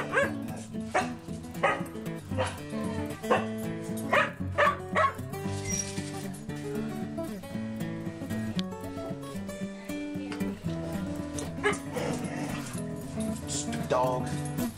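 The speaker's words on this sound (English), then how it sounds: "Dog." A dog barks in a rapid series of sharp yaps, fairly close, over a dense, steady background of other sound.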